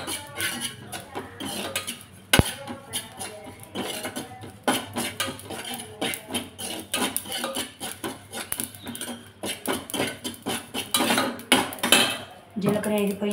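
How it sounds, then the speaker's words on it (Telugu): Cumin seeds roasting in a pan for a capsicum curry, heard as irregular scraping and clinking of a spatula on the pan with soft crackle, continuous and close, with a sharp metallic knock early on. "జీలకర్ర కూడా దోరగా యాగనివ్వాలండి. జీలకర్ర 2 మినిట్స్ వేగితే చాలండి."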